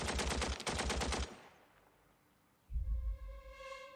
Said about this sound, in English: Okay, the Vickers will shoot at the pack again.